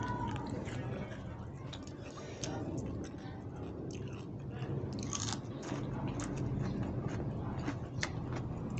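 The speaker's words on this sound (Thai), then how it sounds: "กินผักกาดจองลวกแล้วด้วยค่ะ" Blanched mustard greens are chewed close up, soft crunching and wet bites repeating steadily, with low murmured voices in the background.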